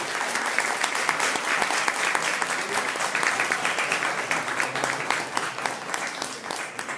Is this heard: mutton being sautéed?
no